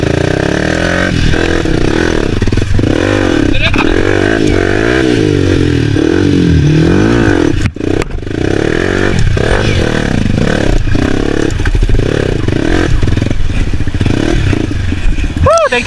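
A dirt motorcycle labors up a hard trail in the Philippines, its engine loud and close, droning and revving unevenly while it strains for power, with clattering and scraping from the rough ground and brief shouted voices.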